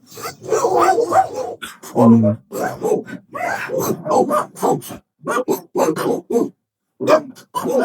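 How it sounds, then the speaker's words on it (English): Continuous talking fills the clip, with a few short bark-like bursts from dogs mixed in under the voice. "These dogs are so loud."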